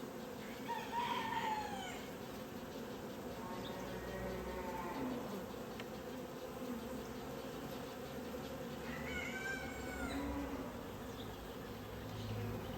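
Bees buzz steadily at a hive box being set up for a colony without a queen, a dense continuous hum that stays fairly even throughout, with a rooster crowing faintly in the background at two points.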